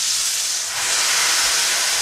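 Gammon steak sizzling in a frying pan while being pressed down, a loud continuous hissing fry at close range with no talk.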